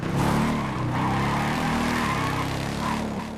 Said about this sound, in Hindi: इस हार्ले डेविडसन की आवाज़ सुनो ज़रा